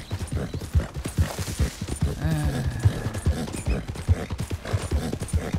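Horse hooves clip-clop at a steady walking rhythm in the video game Red Dead Redemption 2. The hoofbeats are close and evenly spaced, with a faint creak and other game sounds mixed in.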